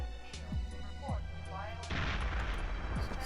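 A Dragon grenade blasts in the Perfect Dark video game, heavy booming explosions landing near one another amid other sharp in-game effects, with no talking.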